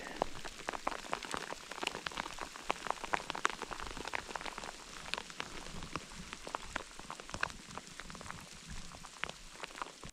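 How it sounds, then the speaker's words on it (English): Hail falls outdoors during a Colorado mountain elk hunt, a dense and steady patter of small icy impacts without pause. "now we've got a little bit of hail"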